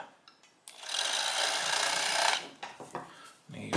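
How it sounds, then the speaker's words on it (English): A power tool cutting the edge of a 1977 Camaro Z28 dash part, a harsh buzzing burst of about two seconds followed by a few short scraping touches, close and moderately loud. "I'm just gonna go in there and try and cut that edge there."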